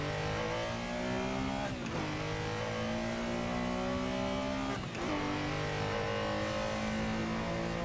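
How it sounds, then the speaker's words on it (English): A Porsche Carrera RSR flat-six race engine in the Assetto Corsa racing game climbs steadily through the revs, with two quick gear shifts dropping the pitch before it winds up again, loud and continuous. "it seems like flat 6 engines and maybe like the V12s, Assetto Corsa seems to do pretty well"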